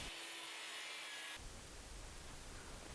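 A rough rubbing and sawing sound comes from trimming the wooden edges of a resin table, steady and close with no talking, its texture shifting partway through.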